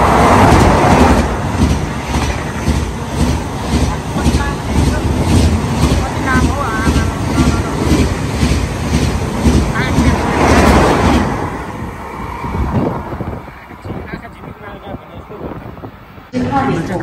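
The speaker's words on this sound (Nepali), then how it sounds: "यहाँ गाडी भन्नाले ट्रेन आइपुग्यो" A Korean bullet train pulls into a station platform with a loud, steady broadband roar and wind rush for about eleven seconds, then eases into a quieter rumble as it slows, with muffled voices nearby.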